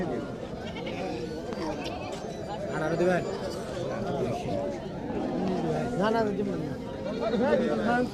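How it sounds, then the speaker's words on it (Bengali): Goats, including Black Bengal and local breeds, bleat repeatedly at a large livestock market in Jamalpur, overlapping calls rising over a constant murmur of crowd chatter and talking men. "তো এখন আবার দেখাই আপনাদেরকে কতগুলো ছাগল আসছে আবার।"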